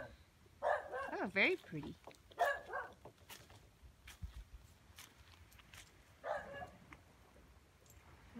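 A street dog on a small island barks a few times at mid distance, the short barks mixed in with people chatting and footsteps outdoors.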